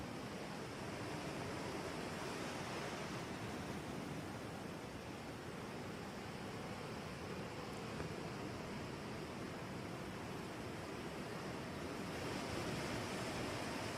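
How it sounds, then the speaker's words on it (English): Small waves wash steadily onto a quiet beach, a continuous soft surf roar with gentle swells and no voices. "Little waves churning."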